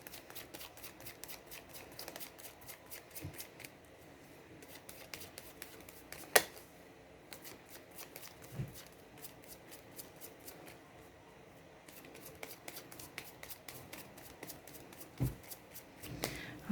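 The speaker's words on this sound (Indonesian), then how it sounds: "sambil saya baca doa dan saya kocok kartunya" Tarot cards being shuffled by hand, a quiet run of soft riffling flicks and papery snaps with a few sharper taps, steady and close, no talking.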